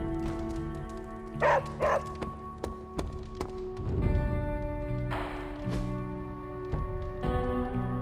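A dog in the video game Marvel's Midnight Suns gives a few short barks and yips over a steady bed of game music and ambience, with light tapping and thunking sounds scattered through.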